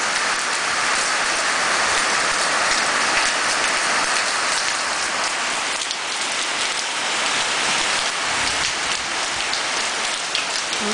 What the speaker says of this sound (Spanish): Aquí detrás de la cámara siento así como chubasquito.